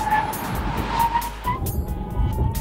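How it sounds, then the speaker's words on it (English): A BMW 335 braking hard from 60 mph, its tires squealing with a steady high whine over road and wind roar, then easing toward the end. "now the braking test. We're going about 60 miles an hour right now."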